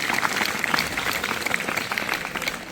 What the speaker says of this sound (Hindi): मैं चाहूंगा कि अपने गुरुजनों के लिए जोरदार ताली बजाएं।